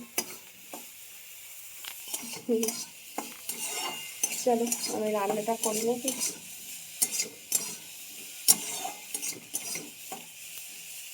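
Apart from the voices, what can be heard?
frying in a pan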